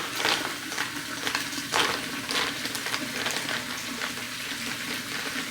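A spoon stirs a foamy matcha drink in a cup, giving a few swishing, clinking strokes with soft liquid churning and no talk.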